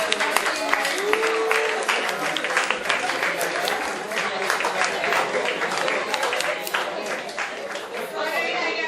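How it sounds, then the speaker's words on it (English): A room full of workshop attendees stands and applauds, dense, sustained clapping lasting several seconds with some chatter mixed in, loud and close. "Guys, please stand up for round of applause."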